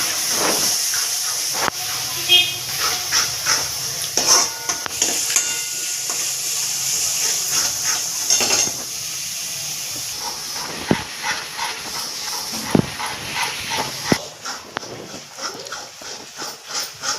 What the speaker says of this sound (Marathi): तुम्ही बघू शकता आपला मसाला मस्त छानपैकी फ्राय झालेला आहे